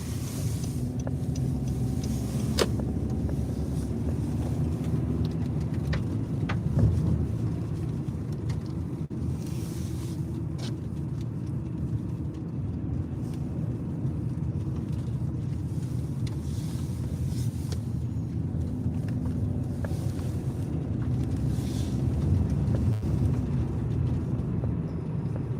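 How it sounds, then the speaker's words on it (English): Road salt kicked up against the underside of a car driving at night, a steady low road rumble with wind noise and scattered faint ticks and patters throughout. "So much salt being kicked up into my car. I can just hear it."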